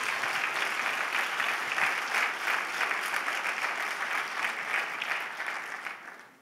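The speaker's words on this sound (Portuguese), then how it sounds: "dê um aplauso bem forte ao Senhor Jesus" A church congregation applauding, dense sustained clapping from many hands in a room, steady and loud, fading out at the end.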